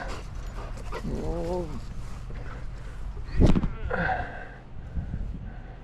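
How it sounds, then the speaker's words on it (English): A neighbour's dog, worn out from chasing a frisbee, pants and lets out a few high whimpering whines close by, with heavy breathy bursts in between and a person talking briefly alongside. "This is a neighbor's dog of the people I mow."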